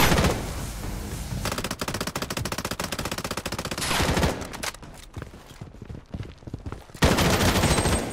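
Gunfire in the shooter game Project: BloodStrike, with rapid automatic bursts and scattered single shots crackling in quick succession, some close and loud, others thinner and more distant, with brief pauses between volleys.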